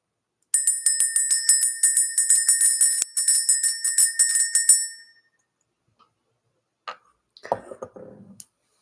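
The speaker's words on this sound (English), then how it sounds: "Let's ring this bell." A small hand bell rung rapidly to clear energy from a room, a bright jingling run of quick strikes for several seconds that stops abruptly, followed by quiet and a few soft rustles or a throat clear.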